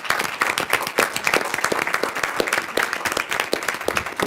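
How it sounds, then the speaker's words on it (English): Steady applause fills a city council meeting in South Bend, many hands clapping in a dense, continuous patter that holds for about four seconds, with a few voices faintly underneath. "Let's give her a big round of applause."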